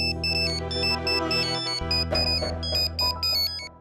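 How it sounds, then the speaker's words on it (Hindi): A phone ringtone plays loudly and close, a bright repeating electronic melody of pulsing tones running throughout with no speech. "फोन उठाना जरूरी है।"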